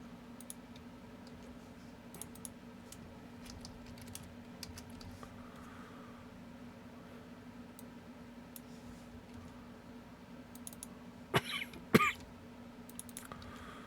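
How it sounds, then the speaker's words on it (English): A man on a shotgun show coughs twice in quick succession near the end, sharp and close, after a long stretch of quiet room tone with scattered small clicks. "This cough, man. This needs to stop."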